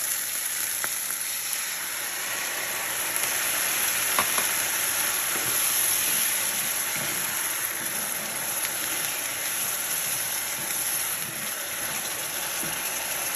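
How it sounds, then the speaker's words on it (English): Tomato sauce and cooking wine hitting a hot pan for a cod fish and potato dish, giving a steady close sizzle and frying hiss throughout with faint stirring clicks. "next I'm gonna add about a quarter cup of tomato sauce, and I'm going to add my cooking wine"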